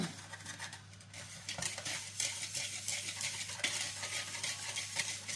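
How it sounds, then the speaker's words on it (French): A chocolate cream mixture made with a little melted butter is stirred briskly in a bowl. Soft, continuous scraping and swishing of a spoon repeats close by over a low background hum. "on mélange bien"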